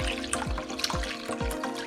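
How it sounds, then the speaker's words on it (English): A cup of water poured into a pani puri spice mix of chaat masala, steady splashing liquid with a few sharp drops and low gurgles, close and fairly loud with no talking. "Now to this add a cup of water."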